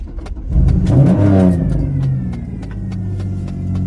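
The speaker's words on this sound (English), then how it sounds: "You want your engine to make some noise." A car engine revs hard up close, a loud rising roar that peaks and then settles into a lower steady rumble, with sharp clicking ticks scattered throughout and no talking.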